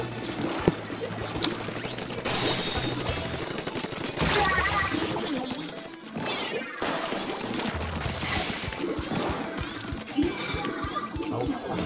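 Splatoon ink weapons fire in rapid bursts over a busy, loud game mix of splats and effects, with players talking and reacting over the action.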